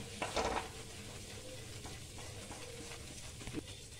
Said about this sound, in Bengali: এটা একটু 1 চামচের মতো ময়দা দিয়ে দিলাম। এটা একটু ভাজবো।